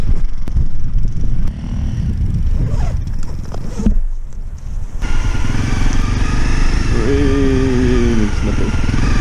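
Dirt motorcycle engine revving while climbing a slippery hill, loud and close, with throttle rising and falling and a strained whine near the end.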